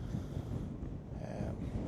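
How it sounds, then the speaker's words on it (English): Wind gusting on a lakeshore buffets the microphone in a heavy, low, rumbling rush with a faint watery wash behind it, steady and close throughout the short stretch. "Pretty windy here"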